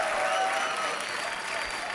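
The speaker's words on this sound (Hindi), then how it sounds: "जोरदार तालियां" A television studio audience applauds loudly after a performance act, a thick, continuous wash of clapping that holds steady and close for the full two seconds.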